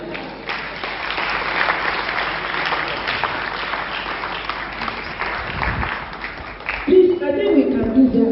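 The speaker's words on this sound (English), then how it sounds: "Just stand up and clap." A congregation claps together at a church parenting talk, filling the room with dense, continuous applause that swells again near the end.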